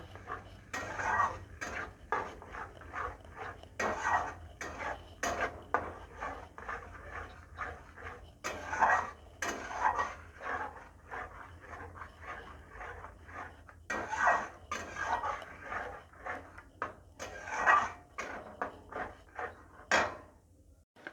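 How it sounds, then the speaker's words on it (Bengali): Dry ground coriander and cumin masala with chilli powder stirred and scraped in a pan, a steady run of close metallic scrapes and clinks from the spoon against the pan, repeated in uneven bursts throughout. "এখন মশলাটাকে ভালো করে কষিয়ে নেব"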